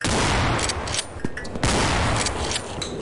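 Rapid gunfire in the horror video game Afraid of Monsters comes in loud, dense bursts, with a brief break in the middle before shooting resumes.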